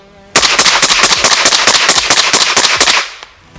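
At an outdoor shooting range, a handgun fires ten rounds in rapid succession, loud and close, in an evenly spaced burst of sharp cracks lasting about two and a half seconds before it stops.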